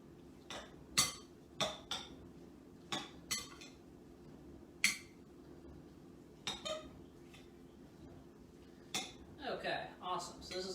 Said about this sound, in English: Stir that up nicely. Break up any bigger pieces.